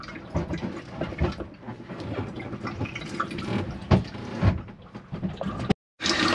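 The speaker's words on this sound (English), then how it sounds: "It'll just gurgle the water until you get a free flow of water from the hot side." The hot tap in a Swift Escape 696 caravan is primed, with uneven gurgling and spluttering water and bursts of air that settle into a flow, then cut to silence before resuming.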